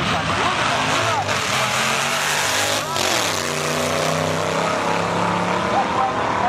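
Drag racing cars, including a Mustang, make qualifying runs at a 2018 dragstrip event. A loud, continuous engine roar rises and falls in pitch as the cars accelerate down the strip, filling the whole stretch without pause.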